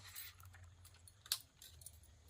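A bicycle key is switched off and pulled out, giving a brief, close jingle of keys with one bright clink, set against a faint low hum.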